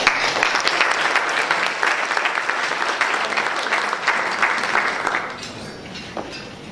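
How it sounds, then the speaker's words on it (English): Crowd at a chamber of commerce luncheon giving a loud, steady round of applause, the clapping tapering off near the end into scattered claps. "Let's give Mike a round of applause"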